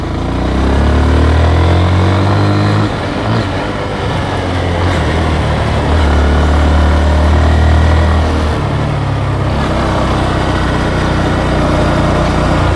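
A Honda Grom motorcycle cruises on the highway with a loud, continuous engine drone and heavy wind rush, its pitch shifting slightly as speed changes.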